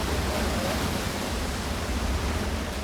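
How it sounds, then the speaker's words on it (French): Strong wind and high ocean waves, around five metres, buffet an icebreaker at sea. A steady, loud, broadband roar of wind and surf fills the whole stretch without letup. "Aujourd'hui, nous avons des vents de 40 nœuds, ce qui n'est pas considérable, mais soulève des vagues de plus de 5 mètres"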